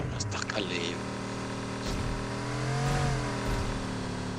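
A video game car engine revs and surges through a busy mix, with chatty voices talking over it throughout.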